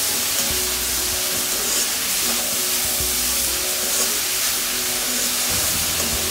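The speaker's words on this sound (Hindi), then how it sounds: "कॉन्स्टेंट हिलाते हुए सेकेंगे, लगभग 10 से 15 मिनट से मैं सेक रही हूँ" Grated carrots sizzle and roast steadily in a pan for carrot halwa, with a continuous frying hiss and occasional soft scrapes of stirring throughout, no voices.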